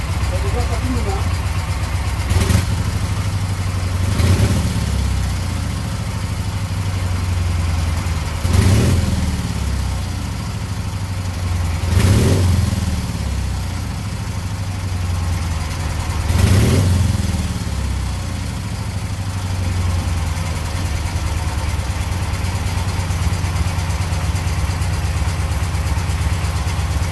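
A rebuilt Soviet K750 motorcycle engine running on its first start, a steady low idle that swells in periodic revs every few seconds, with people talking over the throbbing engine throughout.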